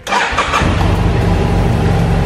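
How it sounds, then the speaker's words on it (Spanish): A BMW F800GS Adventure motorcycle with its stock exhaust cranks briefly and fires up, catching at once into a loud, close, steady low rumble that settles into idle. "vamos a encender la moto y arrancarla"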